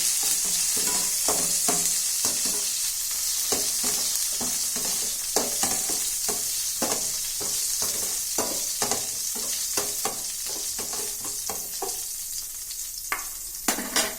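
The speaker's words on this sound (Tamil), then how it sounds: "கடுகு பொரிஞ்சு உளுத்தம்பருப்பு ப்ரௌன் கலராக வந்த உடனே" Mustard seeds spluttering and urad dal frying in oil for aval upma, a continuous sizzle dotted with rapid, irregular popping crackles throughout.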